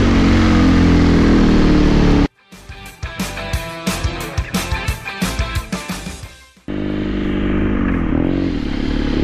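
A BMW R nineT 1200 motorcycle engine, custom-built as an enduro trail bike, runs loud and close, a steady roar broken by a few seconds of sharp revving bursts before it settles back to a heavy idle.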